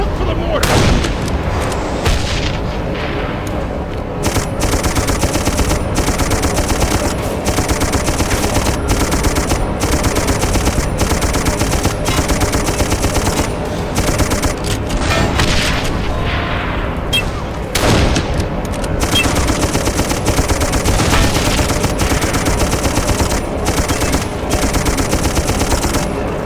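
Dense gunfire and mortar fire rage in the video game Darkest of Days: relentless loud rifle and machine-gun bursts with heavy booms, continuing without a break, while shouting voices rise through the din.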